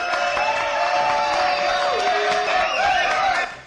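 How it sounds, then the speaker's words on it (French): A studio audience cheers and whoops on a French television show, a dense, steady crowd roar with some clapping that fades out at the end. "on applaudit encore plus fort"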